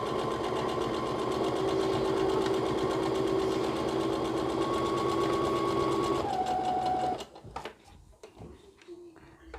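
Sewing machine stitching a straight line through fabric, a steady close-up mechanical whirr with rapid needle rhythm that runs continuously, shifts pitch briefly near the end, then stops, leaving faint handling clicks.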